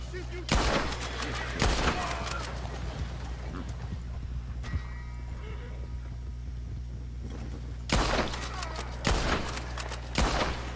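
Gunshots in Red Dead Online ring out in sharp isolated cracks and short clusters, spaced across the stretch amid horse hoofbeats and a steady low drone, with a voice speaking briefly between shots.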